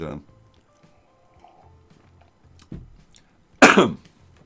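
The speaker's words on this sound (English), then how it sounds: "I'm just having a sip of tea and a cough because my throat's a little bit rough today" A sharp cough bursts out near the end, preceded by a softer throat sound and faint liquid noises from sipping tea, with quiet tones in the background.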